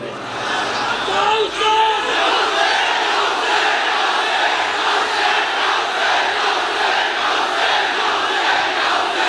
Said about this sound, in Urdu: پوری گلی سے لے کر یہاں تک یا حسین کے نعرے لگ رہے ہوں۔